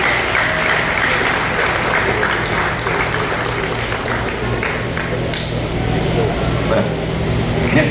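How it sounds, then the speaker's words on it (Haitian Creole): A crowd applauds at length, steady dense clapping filling the room, loud and continuous with some voices mixed in beneath. "On applaudit encore."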